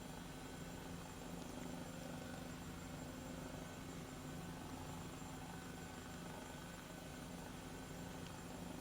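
Airbus H135 helicopter hovering in the flight simulator game MSFS2020, a steady, dense engine and rotor drone that stays constant without breaks.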